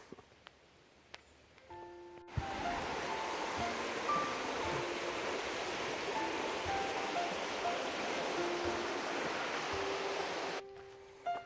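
Comers Creek Falls on the Appalachian Trail in the Grayson Highlands, a broad, steady roar of falling water that rises abruptly, holds loud and constant for about eight seconds, then cuts away to quiet.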